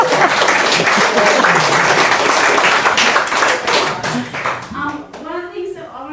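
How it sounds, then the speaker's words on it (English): An audience claps for Tracey Spicer at a talk event, a dense, steady round of applause from a full room that thins out toward the end as a voice begins to speak. "I think everyone in this room should clap for Tracey."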